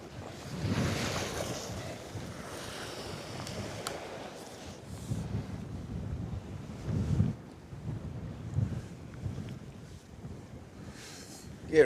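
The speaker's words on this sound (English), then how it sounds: "Oh, but your wind is going up." Wind gusts buffet the microphone beside the River Humber during cod fishing, with rushing water and the low rumble of a boat underneath, rising and falling in uneven bursts.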